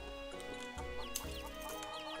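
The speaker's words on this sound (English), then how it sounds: "Alright, chickens, get over here." Chickens cluck softly in the video game Mabinogi, a few short clucks mixed under steady tonal background music.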